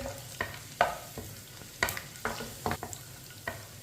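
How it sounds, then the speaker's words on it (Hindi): Whole cumin seeds and dried red chillies fry in a pan over medium-low heat, a quiet sizzle broken by the spaced clinks and scrapes of a spoon stirring them. "इसे ऐसे ही चम्मच चलाते हुए भूनना है।"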